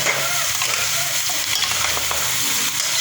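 One kilo of meat is stirred in a cooking pot, a continuous loud sizzle with scraping and shuffling as it is turned, with no talking.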